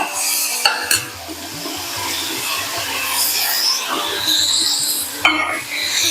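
Onion and chopped tomato sauté in a pan for millet and moong dal kichadi, a soft sizzle under clinking scrapes of a spoon stirring against the pan, with a couple of sharper knocks.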